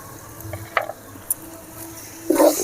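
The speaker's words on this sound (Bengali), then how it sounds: "যে মশলার সাথে আলুটা আমি ভালো করে নেড়ে নিই।" Mashed potato mixed with spices for aloo chop is stirred in a hot pan, making close scraping strokes over a soft frying sizzle, with a louder scrape near the end.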